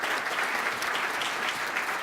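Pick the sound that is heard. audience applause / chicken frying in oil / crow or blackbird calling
audience applause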